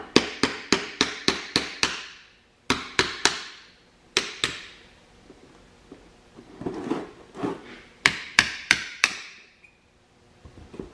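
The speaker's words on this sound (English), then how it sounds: "Might need the hammer because it's stuck in there." A hammer taps a stuck brake part on a 2016 Kia Rondo, sharp metallic blows in quick bursts of four to six strikes separated by pauses, loud and close.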